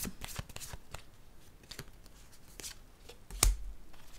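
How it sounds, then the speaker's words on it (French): Tarot cards shuffled and drawn by hand, a close run of soft riffling flicks and light taps ending in one sharper slap of a card, no talk. "Attendez, je vais piger une autre carte."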